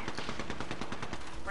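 Video game gunfire, a fast rapid-fire burst of automatic shots close and continuous for about a second and a half.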